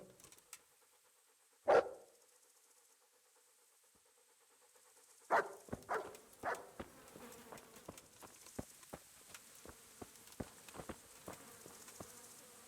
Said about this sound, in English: There's the good dog.